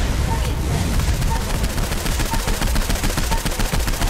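Rapid automatic gunfire in the video game Saints Row IV fires in a dense, steady rattle of loud shots that runs throughout.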